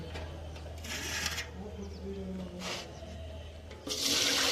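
Water is poured into a pot of batter for a cattle feed mash, heard as short splashing gushes with a heavy final pour, close and fairly loud over a low steady hum.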